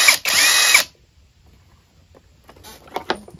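A cordless 20V 4Ah lithium-ion 1/2-inch impact driver wrench runs in a single loud, close burst of just under a second, then quiet handling clatter and small clicks follow.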